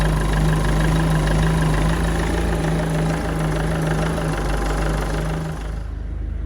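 A used car engine with 261,000 km on it idles steadily, with a low hum and a few uneven shudders. A check-engine light and DPF warning are on. The engine is close and loud throughout and cuts off near the end, with no talk.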